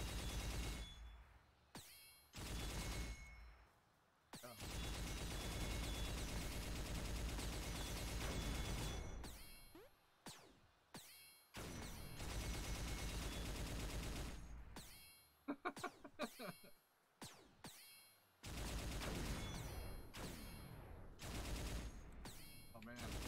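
Heavy gunfire in the video game Rain Island: loud, sustained bursts of rapid shooting broken by brief pauses, with a few sharp single shots in between, close and dominating throughout.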